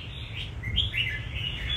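A red-whiskered bulbul calling outdoors, a run of bright chirps and whistled notes repeating over about two seconds, close and clear with low background noise.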